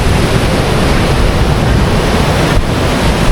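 Sea waves wash over a flooded beach at Udupi, a loud, continuous surf roar mixed with heavy wind buffeting the microphone.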